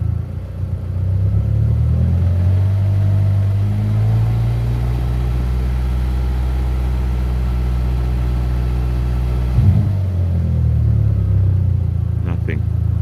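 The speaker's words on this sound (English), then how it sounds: "I'll give it a bit of a rev" Audi S3 8L engine revved while parked, a loud steady rumble that climbs smoothly in pitch, holds, then drops abruptly back to idle near the end.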